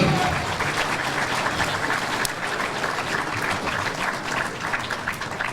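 An audience at a jiu-jitsu competition event applauds steadily and loudly, a dense wash of clapping that holds throughout with a faint crowd murmur beneath.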